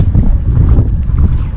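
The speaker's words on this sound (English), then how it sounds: "The wind was gusting like crazy, and our way down was very steep." Strong gusting wind buffets the microphone on a steep mountain descent in Hawaii, a loud, continuous low roar that rumbles and surges without letting up.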